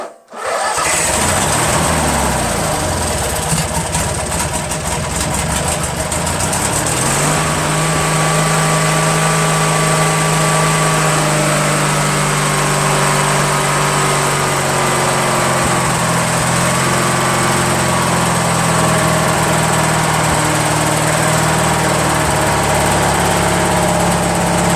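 A Briggs & Stratton opposed-twin engine with dual carburetor and fuel pump catches with a sharp start, then settles into a steady, loud idle whose pitch sags lower partway through, running continuously with no talk.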